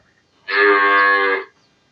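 A bull calf at a cattle market moos once, a single loud, sustained bellow of about a second that rises and fades cleanly with no other sound around it.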